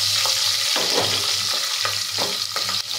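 Green chillies frying in hot oil for a tomato rice dish, a loud continuous sizzle close to the pan, broken by a few soft scraping stirs.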